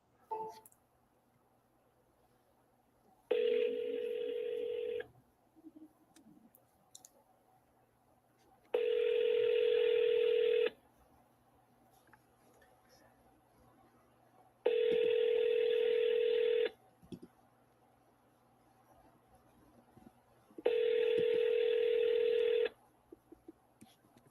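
A telephone call is dialed, followed by four evenly spaced ringback tones, each about two seconds long with long quiet gaps between them, heard clearly through the handset.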